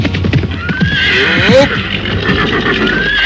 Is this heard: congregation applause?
no